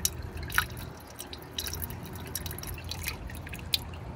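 Water dripping and leaking from a hydroponic vertical grow tower, heard as scattered close drips and splashes over a low, steady trickling background.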